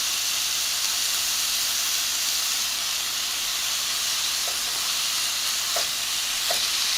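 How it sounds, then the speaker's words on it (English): Pork cooking for tacos árabes in a hot pan gives off a steady, loud sizzle and hiss that continues without a break, with a few faint pops and no voices. "So add your pork, and pork cooks quickly."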